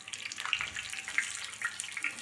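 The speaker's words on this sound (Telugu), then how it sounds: "ఆయిల్ హీట్ అయిన తర్వాత చేప ముక్కలను వేసుకోవాలి" Pieces of fish frying in hot oil in a home kitchen, a faint, continuous hiss with light crackling pops scattered throughout, no talking.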